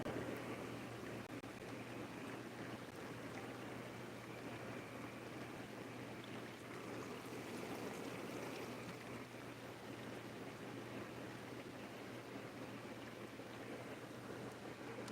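Water in a Balboa hot tub runs and churns in a continuous, fairly loud rushing wash, with a low steady hum from the pump beneath it and no pauses.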